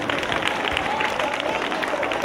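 Audience applause at a school's centenary function, with dense clapping from a crowd filling the room at moderate distance, steady throughout and mixed with some voices.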